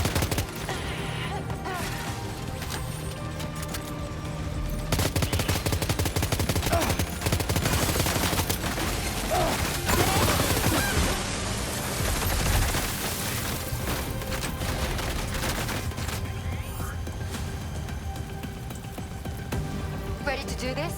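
Gunfire in Death Stranding 2 crackles through a dense, chaotic mix of rapid shots and rain-like clatter, with voices speaking over the continuous din.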